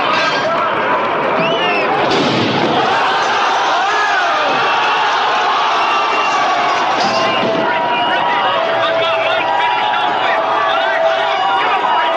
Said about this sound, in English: there are new reports of outraged crowds demanding action